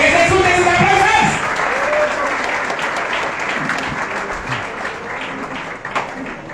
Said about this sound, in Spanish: ¡Que se escuchen sus aplausos!